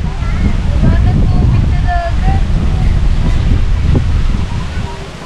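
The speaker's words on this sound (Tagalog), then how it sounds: "napakahangin dito" Strong wind at a beach resort in Morong, Bataan, buffets and rumbles steadily across the microphone, loud and continuous throughout.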